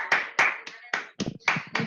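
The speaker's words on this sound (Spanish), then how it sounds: "desactiven ustedes sus audios, porque no sé hacerlo, y aplaudamos a Pau" Participants in an online meeting clap over their microphones, giving a quick run of about seven sharp, uneven claps packed into two seconds, moderately close, with no one talking.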